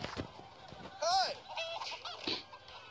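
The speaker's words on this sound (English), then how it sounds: "Chicken's just wrecking him." Chicken in the video game Minecraft Story Mode lets out a sharp, squawking cluck near the middle, with a few fainter clucks and game noises around it and bits of voice underneath.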